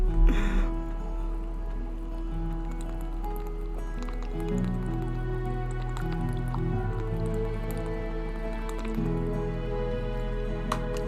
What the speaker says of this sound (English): Water ASMR, more drinking.